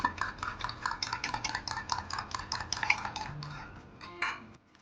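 Egg and milk whisked together in a bowl for pudding, a fast, steady run of light metallic clicks and scrapes that slows and fades near the end.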